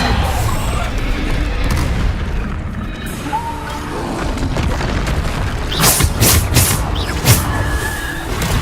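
The Bombarda explosion spell in Hogwarts Legacy booms amid a dense, loud wash of battle noise, with a few sharper bursts standing out near the end.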